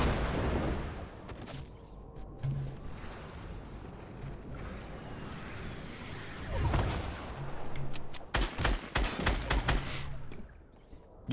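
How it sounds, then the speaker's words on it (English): Rockets and gunfire burst in a Fortnite Battle Royale firefight, with scattered distant booms giving way to a loud cluster of sharp, rapid blasts near the end, no voices over it. "Are we getting rocketed?"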